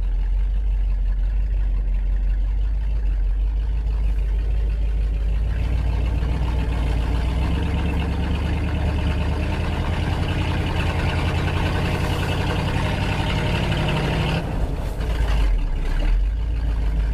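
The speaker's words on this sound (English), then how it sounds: "she's just a great old truck. Runs great, starts right up every time." A 1969 Ford F250 Highboy pickup idling, a steady low engine rumble that stays even and close throughout, with a brief shift in tone near the end.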